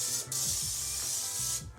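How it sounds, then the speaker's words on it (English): Nonstick cooking spray hisses onto a pan in one sustained close spray of about a second and a half, starting and stopping abruptly, with light rumbling handling noise underneath. "Prepare the pan with some nonstick cooking spray."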